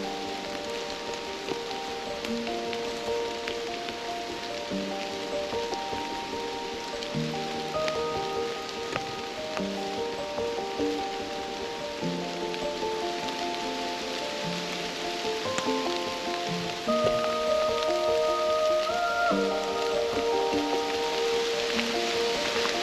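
Steady heavy rain patters over a forest, dense and continuous with drops striking leaves and surfaces all around, growing slightly louder toward the end.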